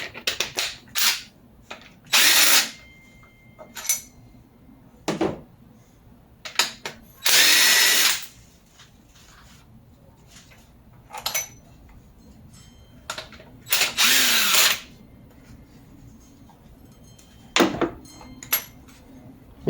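A power tool removes cylinder head bolts from a Honda Civic engine in short, loud whirring bursts at irregular intervals, with ratcheting and clinking of tools and bolts between them.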